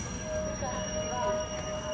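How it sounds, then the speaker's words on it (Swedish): A train pulling into a station in Hangö gives a sustained, thin high-pitched wheel squeal over low rumbling rail noise, moderately close and without speech. "Nu kom det där tågen från Kuppis."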